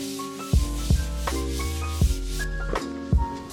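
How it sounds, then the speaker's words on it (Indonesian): Sandpaper is worked across a wall surface to smooth it, giving steady rhythmic rubbing strokes with regular scraping accents over a continuous musical bed. "Langkah pertama adalah amplas permukaan tembok hingga rata."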